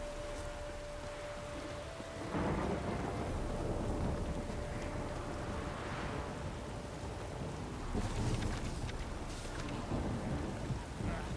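Heavy rain pours steadily through a town in The Witcher 3, with a deep roll of thunder building partway through and another burst of rumbling near the end, all without any talk.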